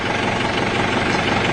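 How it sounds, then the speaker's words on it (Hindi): A tractor engine runs loud and close, giving a steady, dense rumbling drone with no pauses and no voices. "ट्रैक्टर चला रहे हो आप तो?"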